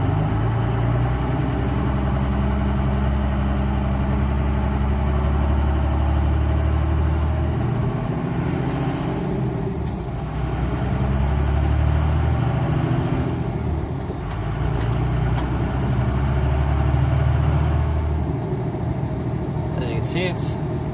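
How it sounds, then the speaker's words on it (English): A 2003-04 Cummins diesel pickup truck running a 12-valve, no-pilot-injection tune drones steadily as it drives, its low engine rumble continuous throughout while someone talks over it. "normal running truck with a 12 valve tune, or I guess you could say no pilot injection tune"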